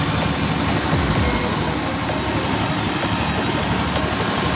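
A repaired Honda Beat motorcycle engine runs at a steady idle, a continuous close hum with a faint rhythmic knock, loud and alone without talk.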